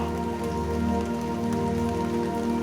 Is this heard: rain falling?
yes